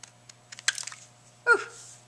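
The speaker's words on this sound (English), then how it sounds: "I like these scissors for cutting through thick layers." Tim scissors snip through thick stacked layers of paper tags, a few close crunchy cuts with a louder chomp near the end, set against a quiet room.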